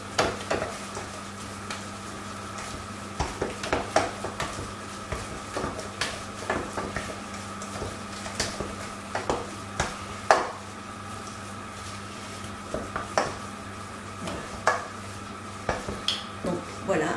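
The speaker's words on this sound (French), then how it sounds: "je remue énergiquement jusqu'à ce que ça fasse une pâte onctueuse" A utensil stirs a thick choux pastry dough of flour, yeast and salt in a pot, giving repeated close scraping and knocking sounds in an irregular rhythm over a low steady hum.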